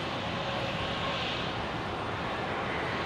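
An airliner at Brisbane airport, the Velocity 708 service to Hobart, starting its takeoff roll on runway 01 right, heard as a steady, even engine roar at a distance.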